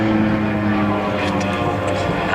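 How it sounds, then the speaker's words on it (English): Swiss Air Force Pilatus PC-7 propeller planes fly past in formation at an airshow, a steady loud droning hum with a tonal propeller whine throughout and no break. "Aircraft flying in formation are very difficult to execute."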